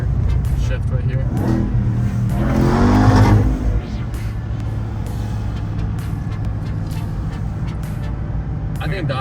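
Ram TRX pickup truck accelerating hard in first gear, a loud rising engine roar that peaks then eases into a steady rumble, with talk over it.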